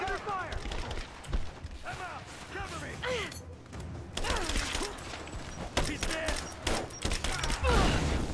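Video-game gunfire in Rise of the Tomb Raider, a prison-escape level, crackles as repeated bursts of AK-style shots aimed at the player, sharp and fairly close, mixed with game effects throughout.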